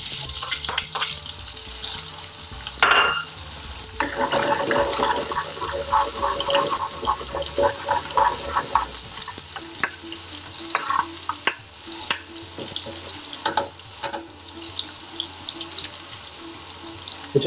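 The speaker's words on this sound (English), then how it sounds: "now they're starting to pop, add the red onion" Red onion fries in hot oil with black mustard seeds for a chana saag masala, giving a loud crackling sizzle. Scattered sharp pops come from the seeds, and bursts of stirring run through the sizzle.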